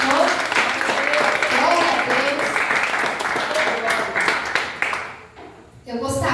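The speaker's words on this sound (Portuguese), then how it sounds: "Aplauda o Senhor." Church congregation applauding together during a family worship service, a dense wash of clapping under a speaking voice and swelling singing tones that fades out near the end.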